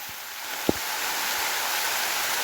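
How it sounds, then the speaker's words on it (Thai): Steady rain falls outdoors as a constant close hiss, broken once by a single soft thump. No voices are present. "ฝนตกทุกคนเลยฝนตก"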